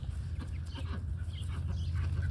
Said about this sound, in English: So as we make our way down the chicken run, oh, here's the Easter eggers. Here's the silkies.